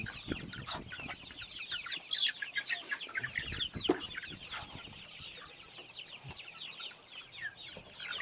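A flock of Rhode Island Red chickens on a farm clucking and chirping in the evening, many soft overlapping calls at moderate distance with occasional rustling.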